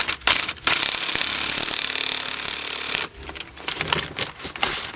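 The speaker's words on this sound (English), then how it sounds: "now you get your gun or your hand ratchet" Close, loud whirring and rattling of a power impact gun tightening seat stud bolts in a 1994-2004 Ford Mustang, running in bursts with short pauses and a sharp start.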